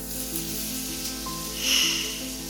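Onions and peppers sizzle steadily in a pan, a continuous close, even frying hiss that swells slightly near the end.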